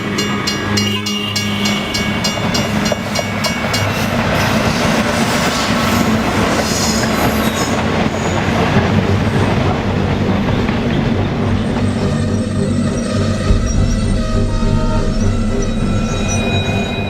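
A train runs on the tracks near a railway station: a loud, continuous rumble with wheel squeal and rhythmic clickety-clack throughout, no talking.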